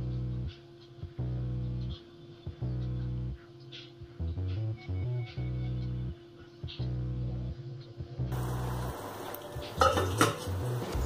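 A spoon stirs salt into egg masala gravy in a metal pan, scraping and clinking in repeated rhythmic strokes, fairly close, followed by brief sizzling and some louder clatter.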